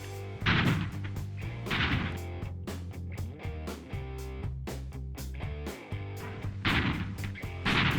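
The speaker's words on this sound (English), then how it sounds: "this new 3-inch 50 caliber rapid-fire anti-aircraft rifle in single or twin mount" A US Navy 3-inch 50 caliber rapid-fire anti-aircraft gun fires a string of loud, sharp blasts, about a dozen shots in irregular succession with heavy booming reports, some overlapping, amid a steady low mechanical drone.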